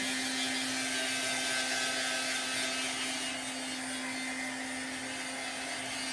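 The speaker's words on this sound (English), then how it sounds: "I think my little dryer is about ready to give out. It makes a lot of noise." A small electric heat tool whirs steadily with a high, buzzing motor tone and a constant hum, loud and close, running without pause.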